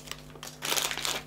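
A package crinkles and rustles as it is torn open during a German loot box unboxing, one short close-up crackle of plastic wrapping that rises partway through.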